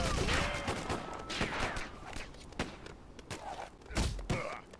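Rapid bursts of assault rifle fire in Lego Batman, with sharp cracks and thuds arriving in irregular volleys, interleaved with game effects and clanks, fairly loud and close.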